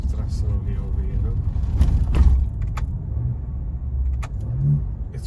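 A Ford Ranger Raptor pickup driven hard, its engine a low, close rumble that swells and dips with throttle inside the cab, with a few clicks and knocks along the way.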